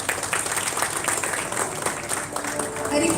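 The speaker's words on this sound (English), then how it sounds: "Please welcome her with a huge round of applause." Dense, continuous audience applause fills a hall as a newly appointed junior civil judge is welcomed onto the dais at a success meet, a loud, even crowd clapping throughout.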